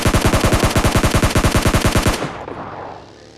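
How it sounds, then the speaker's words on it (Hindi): Rapid automatic gunfire in PUBG Mobile Lite, a loud, close, evenly spaced burst of about two dozen shots that stops and fades into a brief echoing tail. "और अभी आपको सामने की तरफ से भी फायरिंग का साउंड आ रहा होगा।"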